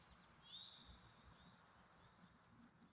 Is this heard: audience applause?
no